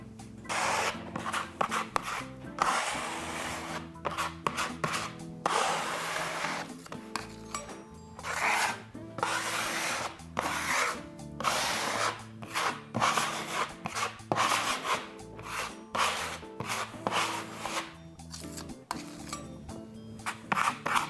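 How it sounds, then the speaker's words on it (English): Fine-grained sandpaper rubbing over spackle on a plaster wall, a steady rhythmic scratching in repeated back-and-forth strokes, close and fairly loud, with brief pauses between passes. "are going to do it with a fine-grained sandpaper"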